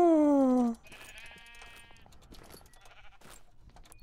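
Sheep bleat in Minecraft, with one loud, close, wavering bleat at the start followed by quieter game sounds and faint clicks.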